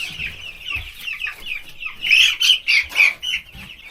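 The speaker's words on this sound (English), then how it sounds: "You crazy birds." Chickens cluck and squawk inside a coop, a busy chorus of close, overlapping calls that swells into louder rhythmic bursts toward the end, with some wing flapping and no speech.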